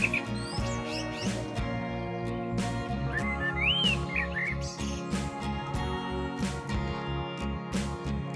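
Thin, high bird chirps and whistles come in short bursts over steady humming tones and sharp clicks, fairly close and moderately loud, at Tansa Dam in Shahapur taluka, Thane district.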